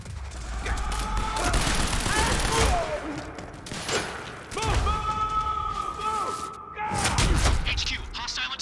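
Sustained bursts of machine gun fire in the video game Quantum Break, loud and continuous across several stretches, with brief lulls between bursts and mechanical clatter mixed in.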